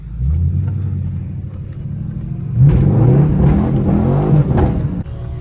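An LS-swapped Pontiac G8 GT rumbles low at first, then its engine revs up loudly and unevenly in short surges from inside the car on a rainy drive.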